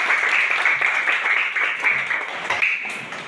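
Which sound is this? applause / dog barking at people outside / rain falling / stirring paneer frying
applause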